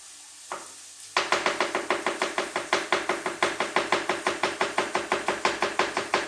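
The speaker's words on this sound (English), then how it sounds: "that's how I chop garlic" A knife chops garlic on a board for a courgette and mushroom pasta, a fast, even run of about twenty crisp, close knocks after one early tap, with faint sizzling behind.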